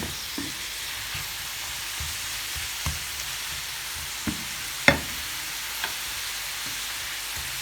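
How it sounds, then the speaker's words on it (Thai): Wild garlic stir-frying in a pan gives a steady soft sizzle, broken by occasional clinks and scrapes of a utensil against the pan, with one sharper knock near the middle and no talking. "แต่ว่าเรา ผัดให้มันแบบสุกจริงๆอ่ะ"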